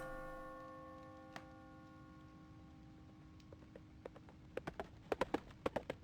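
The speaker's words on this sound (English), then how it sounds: "Horses." Horse hooves clip-clop, starting sparse and quiet, then a quickening run of sharp knocks toward the end, with a faint steady tone underneath and no voices.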